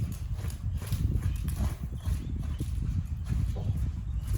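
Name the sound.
horse hooves walking during desensitising training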